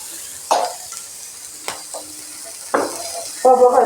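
Dried red and green chillies are sautéed in a pan, giving soft sizzling punctuated by several sharp scraping stirs of a utensil at irregular intervals, close and fairly quiet.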